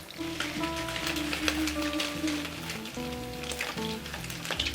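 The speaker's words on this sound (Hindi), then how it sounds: "इनमें थोड़ा सा शैलो फ्राई करूँगी इसको ना।" Big pork momos, Darjeeling street-food style, shallow frying in oil, a steady close sizzle and crackle under background music.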